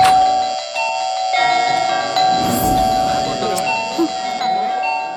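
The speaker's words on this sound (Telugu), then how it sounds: "ఎందుకురా నాన్ స్టాప్ కాలింగ్ బెల్ కొడుతున్నా?" A doorbell rings over and over in a repeated electronic chime, loud and close, with a person speaking in between the rings.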